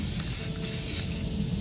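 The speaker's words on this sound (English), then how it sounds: "I'm going to spray this metal piece green just like our design." Spray paint hisses continuously from a can as a Beyblade metal piece is coated green, a steady close airy spray with no talking.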